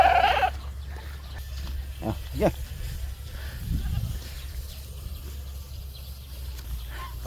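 A male breeding goat on a Philippine farm bleats in short, strained calls around two to four seconds, fairly close, over a steady low rumble and rustling, with someone speaking briefly.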